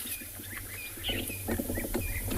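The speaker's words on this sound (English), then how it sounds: "they are European bee eaters, an incredibly beautiful bird" European bee-eaters calling from a tree on a South African safari, a busy flock of liquid, rolling chirps and trills repeating over a low background hum, fairly close and moderately loud.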